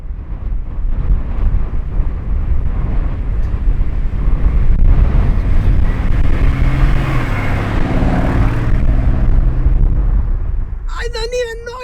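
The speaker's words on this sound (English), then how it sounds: "There is so much wind." Strong gusts batter the microphone at a Lamborghini gathering with a Urus SE arriving. A loud, continuous low roar of wind buffeting drowns the scene, and a brief voice-like tone comes in at the very end.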